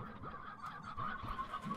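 Chickens on a farm in the video game Slime Rancher honk and cluck in a busy, overlapping chorus of short calls throughout, fairly loud and close with no talking.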